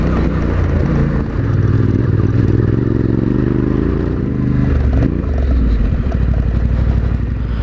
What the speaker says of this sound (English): It takes just a second after I twist the throttle in order for it to kick in and then be ready to rip.